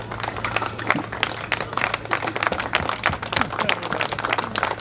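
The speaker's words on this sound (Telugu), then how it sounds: "గట్టిగా క్లాప్స్ కొట్టండి, లేచి చెప్పట్లు కొట్టున్నారు" A crowd at a school batch reunion claps steadily and enthusiastically, a dense rattle of many hands applauding together without pause at moderate distance.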